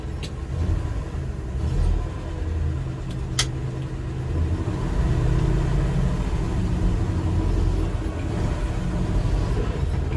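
A 1988 Chevy R30 truck drives shortly after a cold start, its engine a steady low rumble heard from inside with road noise and a couple of faint clicks, and no talking.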